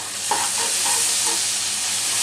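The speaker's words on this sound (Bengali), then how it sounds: "আদা রসুনের গন্ধটা যাওয়া পর্যন্ত আমি ভেজে নিব" Onion with ginger and garlic paste fries in a pan with a steady sizzling hiss, while a spoon scrapes and stirs in a few soft repeated strokes close by.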